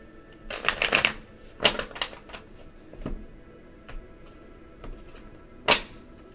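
Tarot cards are shuffled close by in quick riffling bursts, several short flurries spaced out with quiet gaps between them.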